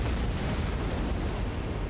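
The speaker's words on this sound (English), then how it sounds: "who needs music when you've got the sound of artillery blasting your ears out?" Artillery fire in the strategy game Total War: Warhammer 3 rumbles as a dense, continuous roar of blasts, loud and unbroken for the whole stretch with no voices over it.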